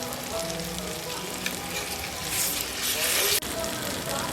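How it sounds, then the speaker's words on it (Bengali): Ginger garlic paste goes into softened tomatoes frying in a pan, raising a loud, continuous sizzle that swells into a brighter hiss near the end. "এখন এর মধ্যে দিয়ে দেব 1 টেবিল চামচ আদা রসুন বাটা"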